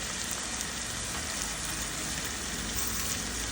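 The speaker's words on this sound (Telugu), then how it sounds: "ఇవన్నీ కూడా మంచిగా దోరగా వేయించుకోవాలి" Coriander, fenugreek and cumin seeds dry roasting in a hot pan, a steady, even crackling hiss that holds at a constant level throughout with no pauses.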